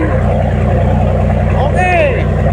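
A passenger boat crossing from Batam to Karimun runs its engine at full speed, a steady loud droning rumble throughout, with a brief whistling tone rising near the end.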